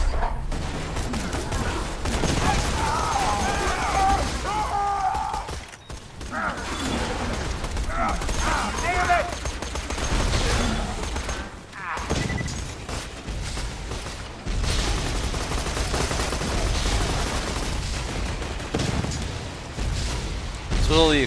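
Explosions and gunfire from the Borderlands 2 video game during multiplayer play, a dense, loud, continuous barrage of blasts and mechanical clatter with game sounds, broken by a few brief dips, under intermittent talk.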